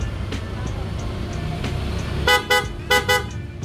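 Engine of a KRV180 motorcycle idling steadily, then a series of short, sharp horn beeps, four quick honks close by near the end.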